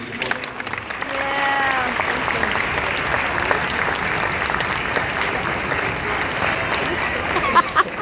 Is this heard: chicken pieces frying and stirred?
no